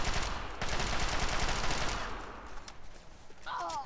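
Alien laser-beam fire in Fallout 3, a dense run of rapid crackling shots filling the first couple of seconds, then thinning to scattered bursts with a brief whooshing zap near the end.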